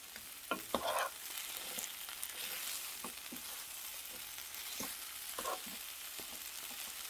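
Aged kimchi and onion stir-fry in a hot pan with a steady, close sizzle, broken by several clear scrapes and knocks of a spatula.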